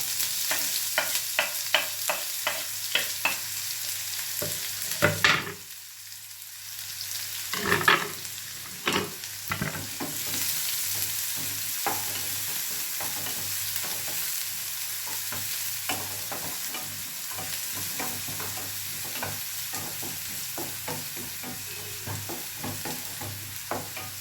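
Finely chopped onions with cumin seeds sauté in a pan, giving a continuous close sizzle with frequent scraping stir strokes and a brief lull partway through, no voices.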